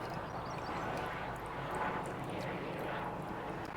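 Helicopter passing overhead at an allotment, a faint distant engine drone that swells slightly and fades, continuous throughout with no talking.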